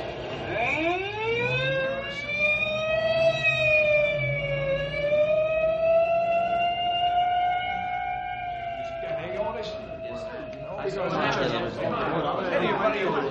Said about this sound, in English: Pat, may I go along with you in the ambulance?